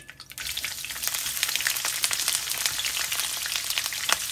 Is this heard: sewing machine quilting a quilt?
no